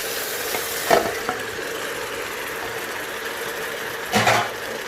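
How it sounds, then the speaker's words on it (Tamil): Country chicken fries in masala in a pan with a steady sizzle, broken by two brief scraping stirs, one early and one near the end. "சிக்கனை ஒரு 5 நிமிஷம் இந்த மசாலாவில் நல்லா புரட்டி விட்டுட்டு நம்ம வேக வச்சுக்கலாம்."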